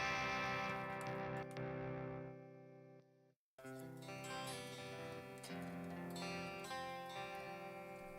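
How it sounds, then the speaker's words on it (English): A heavily distorted electric guitar played through an amp simulator plays sustained, crunchy rock and metal chords, cutting out briefly for a moment of silence before the gritty tone returns. "in rock and metal, we're going for a distorted sound, which is that tone there."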